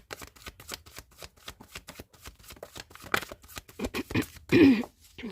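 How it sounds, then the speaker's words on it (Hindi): Tarot cards shuffled by hand in quick, rhythmic riffling bursts close to the listener, ending in a louder, fuller final shuffle, with no talking. "Last shuffle."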